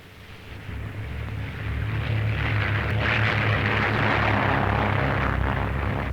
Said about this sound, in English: 4 Army Air Corps attack planes leaving Mitchell Field, Long Island, to lay a smoke screen about the southern tip of Manhattan